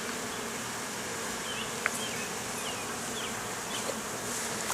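A steady, dense hum of bees fills the air around an open beehive during an inspection, with a few sharper buzzes of single bees flying close by now and then.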